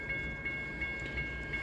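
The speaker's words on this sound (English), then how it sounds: "Next train is the Daily Amtrak." Faint and distant, a daily Amtrak passenger train led by an SC44 Charger locomotive rumbles past on the CSX Grand Rapids subdivision, with a steady rolling drone and light tonal accents.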